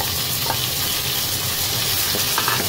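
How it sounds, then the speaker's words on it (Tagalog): Onions and tomatoes fry in a pan with a dense, continuous sizzle, a couple of faint stirring scrapes breaking through, close and steady over a short stretch without talk. "Ihalo natin yung ating sibuyas at saka kamatis"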